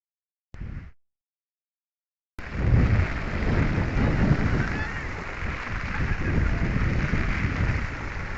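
Heavy rain with thunder pours over flooded crop fields at Venkatapur in Medak, a short burst and a pause giving way to a loud, steady, unbroken roar close to the mic.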